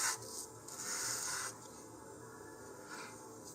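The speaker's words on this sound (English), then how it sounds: "I'm going to give this one just a few more strokes on the sandpaper." Wooden model rocket fin sanded by hand on sandpaper for the Rocketarium Arcturus kit, a soft rasping rub in a couple of strokes, strongest at the start and fading to a quiet hiss.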